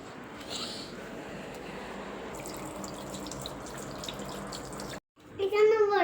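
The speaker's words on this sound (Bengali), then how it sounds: "চলো হাত ধুয়ে দিই বাবা।" Tap water running into a sink for several seconds while a child's hands are washed, a steady splashing flow that cuts off abruptly, followed by people talking.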